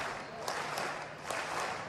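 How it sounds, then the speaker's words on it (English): A stadium crowd at a triple jump meet claps along in a rhythmic double pattern, heard as faint, distant paired bursts over a low crowd hum. "Crowd obliging with that rhythmic clapping, the double clapping I noticed"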